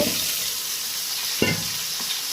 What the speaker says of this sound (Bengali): ফুলকপিটা ভালো করে কষিয়ে নেবো